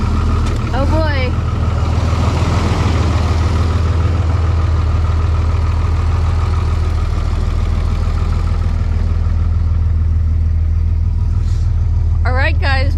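A step van's engine drones loud and steady while driving, a low continuous rumble filling the whole stretch, with a few faint squeaks near the start and end and voices talking over it at times.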